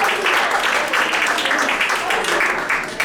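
A crowd applauds steadily for a woman nicknamed the meerkat at a live show, dense clapping filling the whole stretch at an even loudness with voices mixed in.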